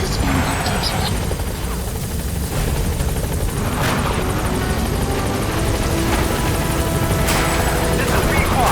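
A support helicopter in Metal Gear Solid 5 hovers close with a loud, continuous rotor drone and engine buzz, steady throughout with occasional sharper swells.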